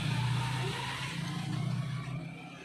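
A TMX155 motorcycle engine with a faulty rocker arm idles noisily up close, a steady rough mechanical rumble with rattling clatter throughout.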